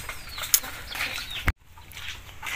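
Racing pigeons arriving after a race, with a few quick bursts of wing flapping and sharp clacks, fairly close, followed by a sudden drop to near silence and faint background sound.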